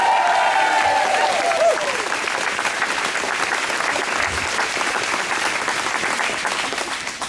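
A large crowd at a Restore Nature Now rally applauds an absent honoree, sustained loud clapping with a faint whistle or tone sliding down at the start, the wash of hands holding steady and fading slightly at the end.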